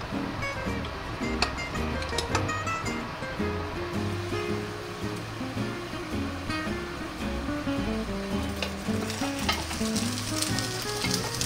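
Gyoza frying in a hot sandwich maker at a campsite, a loud, dense, continuous sizzle with crackling pops, close and steady, with a low rumble underneath and no talk.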